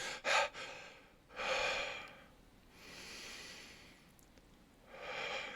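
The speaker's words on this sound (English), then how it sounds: "you go from this fast breathing and you go slower and slower and slower" A person demonstrates breathing that starts with quick sharp gasps and then slows into longer, drawn-out breaths, heard close and alone with quiet gaps between.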